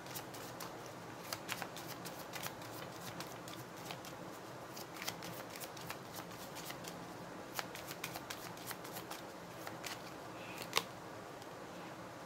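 Tarot cards are shuffled in a continuous run of soft, close riffling snaps and flicks at a low level, with no talk over them.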